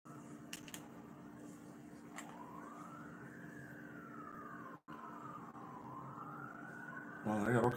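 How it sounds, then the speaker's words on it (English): Emergency sirens wail in a slow rising and falling sweep, fairly distant and faint, under background voices, with a brief clatter of noise near the end. "Well, they got all kinds of sirens and stuff going on."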